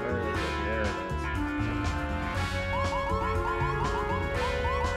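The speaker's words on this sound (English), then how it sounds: "that's enough sirens." A wailing police siren in Grand Theft Auto cycles repeatedly over busy game engine noise and rumble, loud and close throughout the clip.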